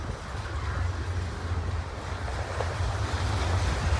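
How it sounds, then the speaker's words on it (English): A westbound container train rolls past near the tracks in the town of Elie, Manitoba, giving a steady, loud low rumble mixed with wind noise throughout. "We're recording another westbound container train."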